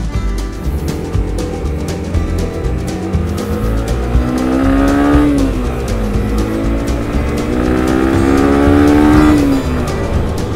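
A Yamaha YBR125 motorcycle pulls away and rides off, its engine note rising and falling through gear changes, loud and close with steady road and wind noise underneath.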